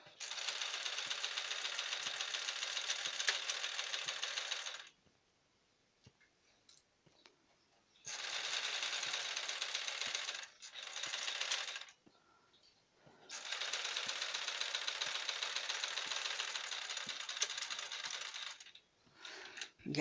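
A sewing machine stitches a pillow slip cover in three long steady runs with a short burst between them, each run a loud continuous buzz separated by quiet pauses.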